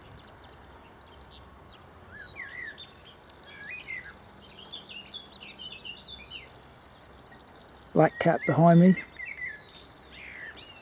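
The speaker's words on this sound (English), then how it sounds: "Blackbird." Bright, varied birdsong phrases of a blackbird ring out through the clip on a countryside walk near Lilley, with a nearer, louder burst of song near the end over soft background noise.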